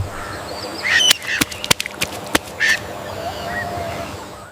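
A small muscovy duck calls in a short burst of quacks and honks, several sharp clipped calls close together, followed by a quieter background murmur.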